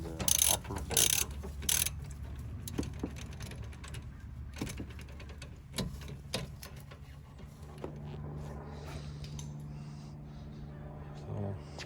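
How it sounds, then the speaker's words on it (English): A ratchet clicks in short bursts while a rear brake caliper bolt is tightened on a Range Rover Sport L320, the sharp mechanical ticks close and uneven, followed by quieter handling noises. "Now putting back and tightening the upper bolt."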